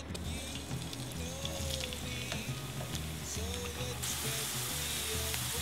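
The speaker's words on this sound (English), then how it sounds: "Spanish fried potatoes." Potatoes for a Spanish omelette fry in a big pan of hot oil, giving a steady, close crackling sizzle that runs throughout without pause, with no talk.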